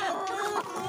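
A pale, large older rooster kept in a backyard flock clucks in soft, continuous low calls, close by and moderately loud, with no talking over it.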